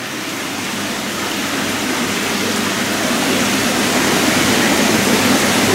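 Water sprays steadily onto a new filter, a dense, continuous hiss close by that grows slightly louder over several seconds with no talk.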